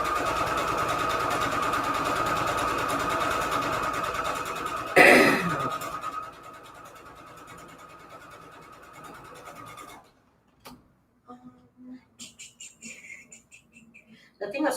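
A domestic sewing machine stitching fabric scraps for patchwork junk journal covers, a steady rapid whir for about ten seconds, then stopping, followed by scattered handling clicks and rustles.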